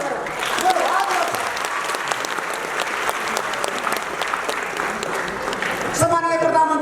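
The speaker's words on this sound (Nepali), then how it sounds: "हामी सबैले सम्माननीय प्रधानमन्त्री केपी शर्मा ओलीलाई ताली बजाएर अभिनन्दन गरौँ।" A large audience gives Nepal's Prime Minister KP Sharma Oli sustained, loud, even applause, and a voice starts up just as the clapping ends.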